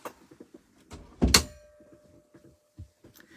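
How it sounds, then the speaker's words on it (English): A door is shut indoors during a live craft-card demonstration, giving one loud thump with a brief rattle, followed by a faint lingering hum and quiet room noises. "Let me just shut the door."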